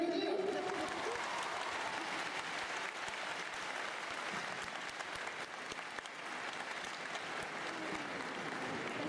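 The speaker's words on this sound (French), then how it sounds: "On peut les applaudir!" Audience applause fills a hall at Japan Expo 2016, a dense, steady wash of many hands clapping that carries on without a break, with faint crowd murmur beneath.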